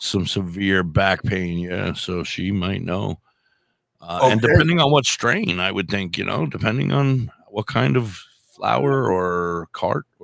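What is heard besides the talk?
None of the usual background noises is heard.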